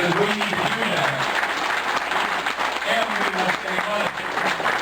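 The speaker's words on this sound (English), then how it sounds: "Give that a round of applause" Applause from the audience at a campaign rally for a Pennsylvania governor candidate, a steady broadband wash of clapping that lasts throughout, with a speaker's voice carrying over it.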